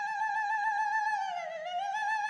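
Wind sound effect from the Zelda game Majora's Mask: a steady, hollow whistling tone with slowly wavering pitch, sustained and fairly quiet for about two seconds, with no talking.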